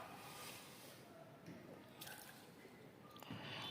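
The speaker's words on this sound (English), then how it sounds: "Put it in the water and to check the waterproof." A Doogee S98 smartphone dipped and washed in water for a waterproof test, soft squishing, dripping and sloshing through quiet background hiss, with a few louder splashes near the end.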